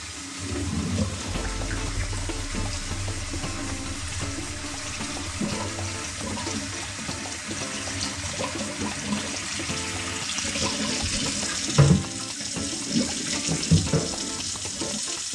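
Running water rinses out a kitchen sink drain that had been clogged by buildup from a garbage disposal. The steady, close rush continues throughout, with a few louder splashes near the end.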